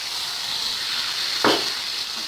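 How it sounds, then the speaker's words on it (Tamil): Pepper chicken fries in a pan with a steady soft sizzle while coriander leaves are stirred in, one brief scraping stir breaking through midway. "இது நல்லா கலந்து விட்டுக்கலாம்."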